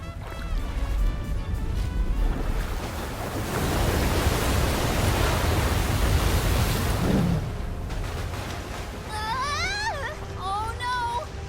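A ship in Visions of Mana forces its way through a wall of ocean waves, with roaring surf and rushing water swelling to a loud peak before a voice speaks over the fading wash.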